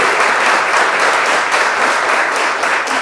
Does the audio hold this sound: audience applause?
yes